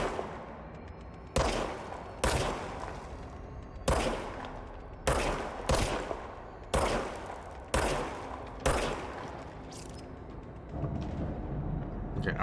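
Gunfire in the Control video game: about eight sharp shots ring out one at a time at irregular intervals, each loud and close with a short decaying tail, and no talk over them.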